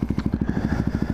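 A small motorbike engine, a Honda Grom-type bike, putters at speed in a rapid, even pulse of low thuds, close and steady throughout, with no talk over it.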